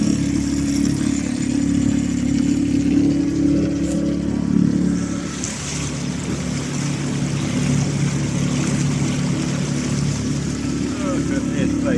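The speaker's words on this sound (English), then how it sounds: "So we've hired a boat." A hired motorboat's engine drones steadily across the wide Llyn Clywedog reservoir near the dam, a close, constant hum with water rush throughout and no clear talk.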